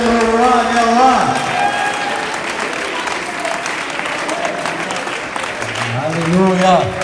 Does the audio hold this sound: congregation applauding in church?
yes